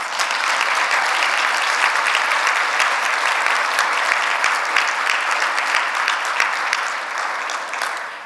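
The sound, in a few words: audience applause at a closing session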